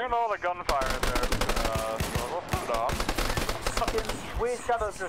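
Rapid video-game gunfire, machine-gun bursts and single shots crackling loud and dense throughout, with game music and brief voices mixed in.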